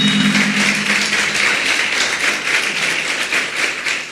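An audience applauds in a church or radio gathering, a steady patter of many hands clapping at moderate loudness, sustained throughout without speech.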